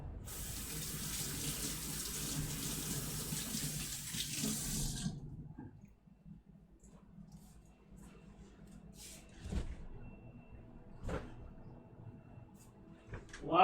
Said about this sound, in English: let's get some cold water.